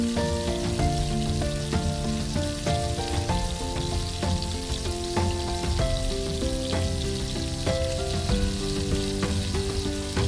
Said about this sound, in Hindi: बारीक कटी हुई प्याज 3 अदद, उसको फ्राई कर लेंगे। अच्छा सा ब्राउन फ्राई करना है हमें इसको।